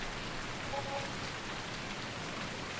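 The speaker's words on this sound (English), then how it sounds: "as you can see, the rain has set in" Rain falls steadily in the farming video game Farming Simulator 19, a faint, even hiss of drops that holds constant throughout with no voices.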